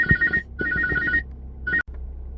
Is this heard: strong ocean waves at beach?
no